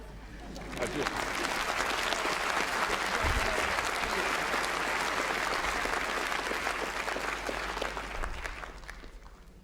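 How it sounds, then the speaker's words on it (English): A graduation ceremony audience breaks into sustained applause, a dense, even wash of many hands clapping that swells quickly, holds for several seconds and tapers off near the end. "Perhaps you'd all join me now in a really rousing round of applause for all our new graduates."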